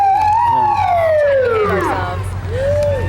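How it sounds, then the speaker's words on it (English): A police car siren wails loudly and close at a rodeo parade, one long falling sweep followed by the start of another rising tone over low engine rumble. "Sirens have changed a lot over the years, haven't they?"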